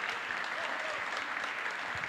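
Steady applause fills a studio for retired footballer Maxi "La Fiera" Rodríguez, dense continuous clapping from an audience throughout, with no voices over it.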